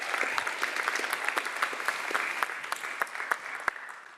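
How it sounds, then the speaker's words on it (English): An audience applauds the Director General of CERN at a physics talk, a steady wash of many hands clapping at moderate volume with no voices over it. "give a big round of applause to the Director General of CERN"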